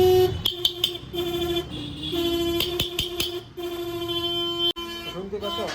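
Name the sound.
weak horn of a Kawasaki ZX-10R motorcycle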